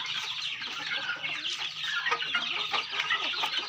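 Fighting roosters at a Thai gamecock farm cluck and call continuously, several birds close by producing overlapping bursts of clucks with no talk.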